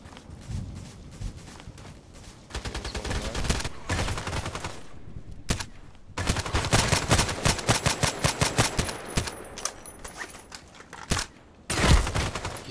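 An SVU-AS rifle in the Contract Wars video game fires in bursts of rapid shots. The cracks come in dense clusters with brief pauses between them, loud and close.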